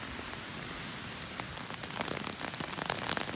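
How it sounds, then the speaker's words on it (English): Heavy rain drums steadily on a tent during a camping trip, a dense close patter of drops that grows louder and more crackly toward the end, with no talking. "The rain's coming down in sheets."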